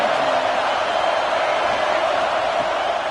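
Roaring stadium crowd building on third down at a Texas versus Vanderbilt college football game, a loud sustained wash of cheering and noise with a commentator talking over it.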